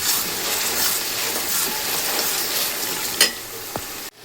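Onion paste gravy for chole frying in a pan, a continuous close sizzle with faint stirring scrapes and a couple of brief clinks near the end.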